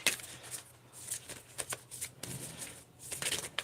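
Tarot cards are shuffled in quiet, repeated bursts of riffling and flicking, close and soft, with brief pauses between the shuffles.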